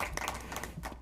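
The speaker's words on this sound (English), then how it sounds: "We can clap for him too." Light, scattered clapping from a small audience at a school board meeting, a brief patter of claps at moderate distance.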